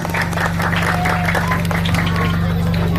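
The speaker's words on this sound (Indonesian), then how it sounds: "Pramila tepuk tangan kagem panjenenganipun Bapak Anas ugi Bapak Kepala Dinas." Audience at a live village performance in Mungkid, Magelang applauds for Mr. Anas and the Head of the Education Office, steady dense clapping over a constant low hum, with crowd chatter mixed in.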